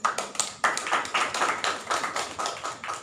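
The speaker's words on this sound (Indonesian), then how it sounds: "Berikan tepuk tangan." An audience at a panel discussion claps for a speaker, with distinct hand claps in an uneven rhythm from a small group nearby, loud and alone.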